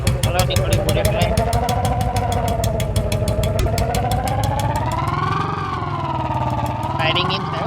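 A Royal Enfield Bullet motorcycle hauling a big trolley runs loud and close, its engine thumping in a rapid steady beat while the pitch slowly rises and falls, with no other sound over it.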